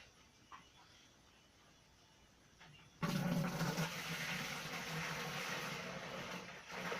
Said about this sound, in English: pour my sanitizer from my pot into the bucket